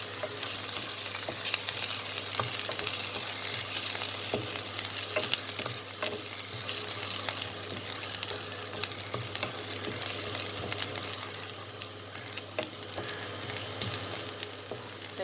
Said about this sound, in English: now I'm going to add the chopped ginger, garlic and chili. Saute it for a while.